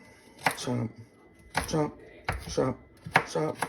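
A kitchen knife chops through a thick carrot on a cutting board, four crisp, evenly spaced cuts, each a sharp thunk against the board, close and clear with a faint voice in between.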